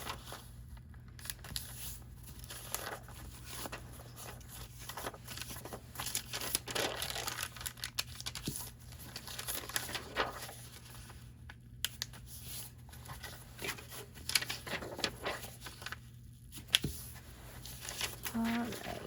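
Sheets of paper being folded in half by hand for a refillable journal, giving soft crinkling and creasing rustles in short repeated bursts close up, with faint talk now and then.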